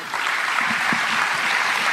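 An audience breaks into loud, steady applause at a motivational business event, dense clapping sustained throughout with no voices over it.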